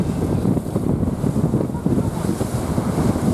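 Strong wind roars steadily at sea during a Japanese boat festival, blowing hard against the microphone over surf and a boat's motion, loud and continuous with no talk.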